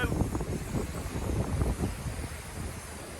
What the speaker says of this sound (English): The camera's moving around, it has really picked up this wind.